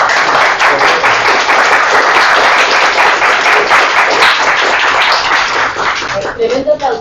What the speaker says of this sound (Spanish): Tremendo aplauso